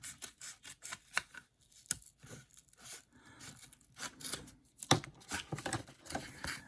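Scissors trim the body shell of a Tamiya Buggyra Fat Fox RC buggy with a run of close, crisp snips and cuts that come in irregular bursts with short pauses between them.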